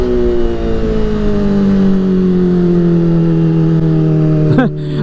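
A Kawasaki ZX-4RR motorcycle revs hard and loud in third gear, its high-pitched engine whine climbing steadily and holding near the microphone, then dropping suddenly at the end.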